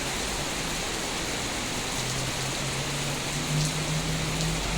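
Heavy rain pours in a dense, steady hiss on a wet floor outside a mall, loud and unbroken with no voices.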